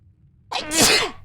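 A single sharp sneeze bursts out close to the mic after a near-silent moment, loud and breathy, trailing off within about a second.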